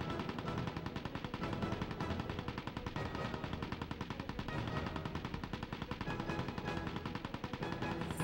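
Rapid automatic gunfire from an enemy's weapon in the PS2 game Mercenaries, a dense, continuous rattle of shots at steady loudness throughout, with no talk.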